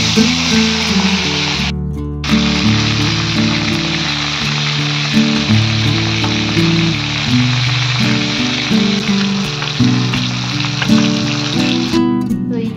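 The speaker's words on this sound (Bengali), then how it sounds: "আর এই যে প্রথমে ভোলা মাছটা ভেজে নেব।" Bhola fish fries in hot oil with a loud, continuous hissing sizzle that holds steady close by, briefly dipping near the start and end, with no voices.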